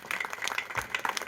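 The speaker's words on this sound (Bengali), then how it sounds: "তাদের জন্য একটা জোরে হাততালি হবে" A brief burst of applause from a crowd honoring puja club members at a Saraswati puja pandal, dense clapping that lasts just over a second.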